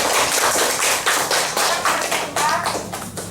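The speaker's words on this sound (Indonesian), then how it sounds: "Ya, beri tepuk tangan untuk kelompok 3." A small group of students in a classroom claps in quick, uneven rhythm, close and loud, for a few seconds with no talking.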